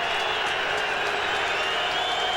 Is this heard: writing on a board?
no